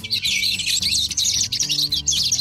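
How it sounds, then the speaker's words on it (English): Goldfinch song played back through a speaker, a continuous stream of bright, twittering chirps and warbles running nonstop at steady loudness. "That's state bird of New Jersey. Oh, the goldfinch."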